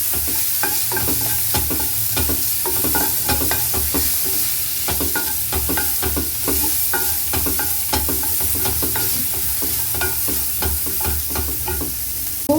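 Ingredients for a lentil-free sambar sauté in a hot pan, steady sizzling and frying with repeated spoon-stirring scrapes and clinks throughout, close and fairly loud, no talking.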